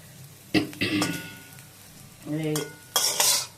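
Raw plantain slices stir-fried in a pan, a few short bursts of scraping and sizzling as the spatula tosses them, separated by quieter pauses.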